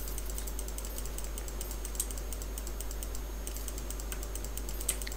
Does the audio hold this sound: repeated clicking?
yes